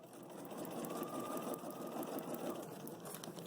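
A sewing machine stitches a TRP line on a Moon Star quilt block, a steady rapid mechanical whirring and needle chatter, close and continuous.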